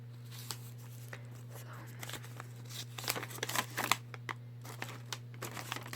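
Old school papers being handled and crinkled up close, with soft scattered crackles building into denser, louder crinkling bursts midway, over a steady low hum and no talk.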